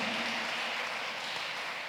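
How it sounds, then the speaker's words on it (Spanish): Church congregation clapping in praise: a continuous dense wash of applause from many hands, steady and fairly loud throughout with no pauses, no talk over it. "¿Cuántos le pagan un aplauso a Dios en esta hora?"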